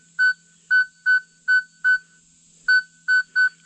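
Short, high-pitched beeps from a Nokta Makro Legend metal detector set to a raised tone pitch, eight clipped tones in an uneven rhythm over a faint steady hum, with no voices.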